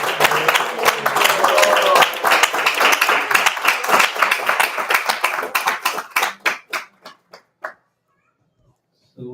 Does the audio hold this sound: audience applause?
yes